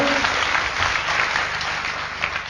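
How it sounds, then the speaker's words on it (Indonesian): An indoor audience at a business motivation seminar claps steadily, a dense wash of applause that fills the room and fades only slightly. "Mohon aplaus untuk Bapak Ruli Wahyudi."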